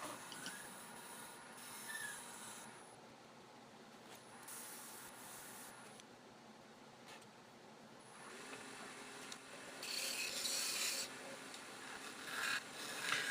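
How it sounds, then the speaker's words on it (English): A shop-made negative rake scraping tool finishes wood on a lathe, giving faint hissing scrapes in separate passes over the low hum of the turning machine. "I switch back to my negative rake scraping tool to finish the surface"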